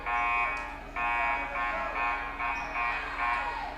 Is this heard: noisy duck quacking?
no